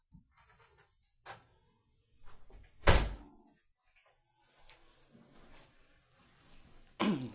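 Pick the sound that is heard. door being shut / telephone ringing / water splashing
door being shut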